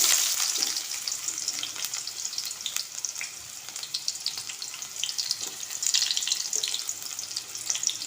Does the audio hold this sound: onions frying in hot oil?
yes